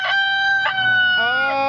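A loud rooster crows close by, a sustained harmonic call with a couple of sharp breaks and a rising final note, with no talking over it.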